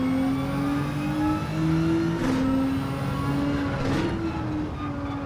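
Race car engine in Gran Turismo 7 during a GR4 race, a steady high drone with shifting harmonics and brief revving surges, tyres being worn hard, loud and continuous with no talk.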